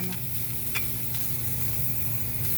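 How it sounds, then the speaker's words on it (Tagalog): Onion and garlic sizzle softly in a pan, cooked without oil, a steady close hiss broken by a few light clicks of stirring, with no voices. "Ganito ako magluto ng sibuyas sa bawang."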